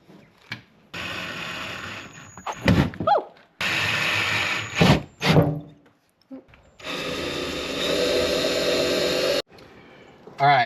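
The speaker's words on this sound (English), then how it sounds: "All right, we punched these and now we're getting ready to drill." Power drill boring holes in a Toyota Tundra panel: several bursts of whirring, a few seconds each, separated by pauses, with people talking between and over them.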